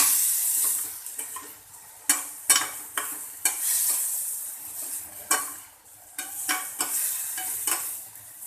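Tomatoes sizzle and soften in a pan while a utensil scrapes and stirs through them, with irregular clacks and swishes over a continuous frying hiss.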